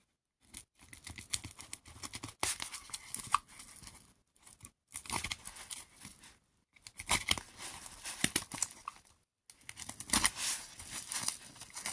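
Close crinkling and ripping of plastic packaging in several bursts separated by short pauses, with no talking.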